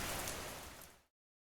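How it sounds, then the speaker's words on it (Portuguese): Rain falling outside, a steady broadband hiss that holds evenly for about a second and then cuts off abruptly into silence, with no voices. "Lá fora, apenas a chuva."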